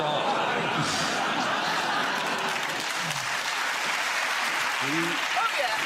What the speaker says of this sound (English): I think you were very quick to give yourselves a round of applause.